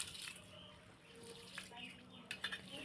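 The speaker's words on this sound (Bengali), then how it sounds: "তো চালটা ভালো করে ধুয়ে নেই" Rice washed in water, with faint splashing and trickling of running water close by, soft and intermittent with small drips toward the end.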